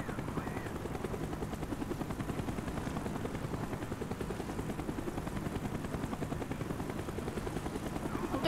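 A helicopter in the Black Ops 1 video game, its heavy rotor chop droning steadily throughout, with rapid gunfire partly blended into the continuous noise.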